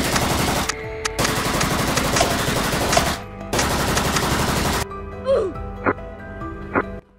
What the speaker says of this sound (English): Shoot him, Black!